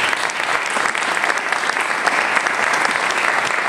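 A room full of people at a book talk in Marbella applauds the Mata booksellers, giving dense, even clapping that holds steady at full strength throughout.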